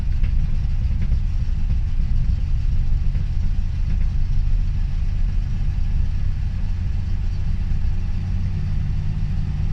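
A carbureted Fox body car that needs a carb rebuild idles with a steady, loud, low rumble throughout, with no voices.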